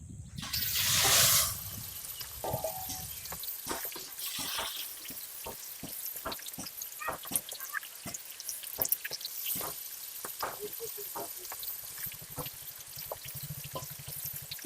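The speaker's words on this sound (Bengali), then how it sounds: "তেল গরম হয়ে গেছে, মাছগুলো ভেজে নেব" Pangas fish fry in hot oil in a wok. A loud initial splash is followed by sharp crackles and pops under a steady faint sizzle.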